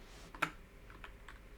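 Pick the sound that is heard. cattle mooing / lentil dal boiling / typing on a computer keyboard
typing on a computer keyboard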